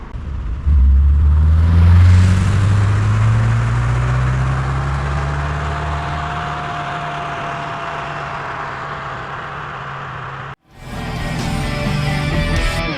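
A 1982 Porsche 911 SC Targa drives through Andorra, its engine revving up loudly and then holding a steady, slowly easing drone for about ten seconds before a brief cut and the engine noise returning.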